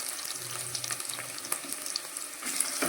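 Capsicum and onion frying in oil in a pan for restaurant-style paneer chilli, a steady close sizzle with small crackles and pops, no voices.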